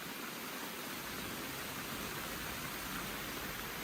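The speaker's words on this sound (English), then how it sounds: "That's rain I'm hearing." Heavy storm rain pours steadily in a dense, unbroken hiss, with no talk over it.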